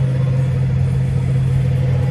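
Farm tractor engine running steadily in a sugarbeet field during harvest, a loud, constant low drone with no pauses and no talk.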